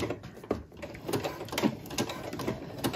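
A sewing machine slowly stitching through vinyl on a zipper pouch, giving soft, close, irregular mechanical thumps and clicks about every half second over a faint background hiss.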